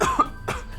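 A single close, loud cough from a streamer, followed by a second short throat-clearing burst, each sharp and brief with quiet between them.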